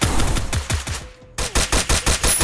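Rapid bursts of automatic weapon fire in the video game Free Fire crack out in a fast, even rhythm, pausing briefly before another run of evenly spaced loud shots; no talk is heard.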